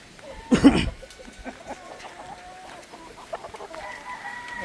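Boston Black hens cluck on a farm where hens are set to brood, with one loud burst of clucking near the start, then quieter bird calls and background farmyard noise.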